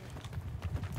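Horse hooves clop in the medieval battle game Bannerlord, with a quick rapid gallop rhythm over a dense, fairly quiet battlefield din.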